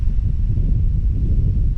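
Wind gusting outdoors at a campsite, a steady low rumbling buffet across the microphone throughout, loud and continuous with no talk.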